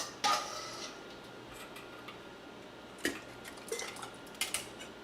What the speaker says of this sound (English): Keep stirring the pot every so often while filling the jars.